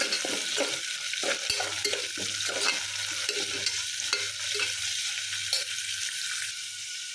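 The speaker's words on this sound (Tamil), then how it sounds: "வெங்காயம் ஓரளவு வதங்கிடுச்சு" Onions sautéing in a pressure cooker for Sri Lankan mutton thakkadi give a continuous close sizzle with occasional stirring scrapes and no talking.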